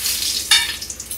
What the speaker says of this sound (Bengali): মুগ ডালটা সামান্য তেলের উপরে নেড়ে দিয়ে